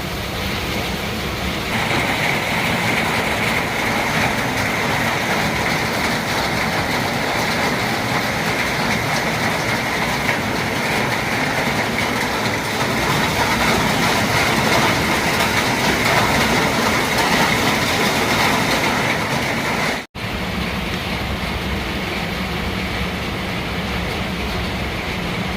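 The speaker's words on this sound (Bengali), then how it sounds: "কি আওয়াজ দেখছেন বর্ষার?" Heavy monsoon rain pours outside during home cooking, a steady, loud, broadband hiss and roar that fills the whole stretch, with a brief sharp dip near the end before it resumes.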